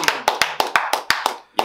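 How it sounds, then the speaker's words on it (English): Several sharp, evenly spaced hand claps in a quick rhythm, close and crisp, with a brief pause before the final clap. "Give them a round of applause."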